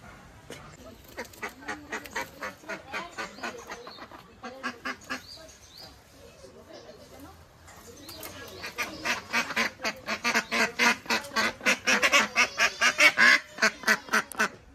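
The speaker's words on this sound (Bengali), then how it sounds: "এই যে দুটো একবারে দেশি পাতি হাঁস" Two domestic desi ducks in a village give rhythmic, repeated nasal quacks, sparse at first and then a louder, faster burst of close calls near the end.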